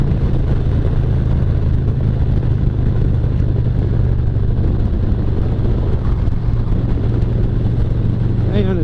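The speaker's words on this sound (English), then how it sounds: "It sounds like what you would think a Harley sounds like." A 2022 Harley-Davidson Road Glide with Cobra exhaust idles and rumbles close by, a loud steady low-end throb running throughout.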